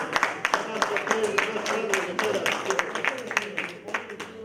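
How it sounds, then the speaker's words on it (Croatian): A crowd applauds at an evening event of a Croatian cultural society, dense rapid clapping with sharp individual claps standing out, steady and close throughout. "Može jedan aplauz, može."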